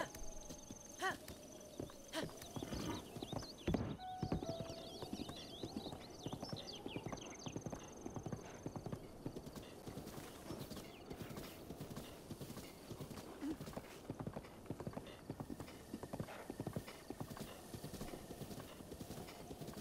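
Horse hooves clip-clop steadily in the video game The Legend of Zelda: Breath of the Wild, with a whinny early on, as the rhythmic trotting carries on throughout.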